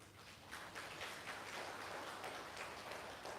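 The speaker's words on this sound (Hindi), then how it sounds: "सोते सोते तालियां।" A yoga class claps while lying down, a faint, dense patter of many hands clapping together at a slight distance, continuing steadily for a few seconds.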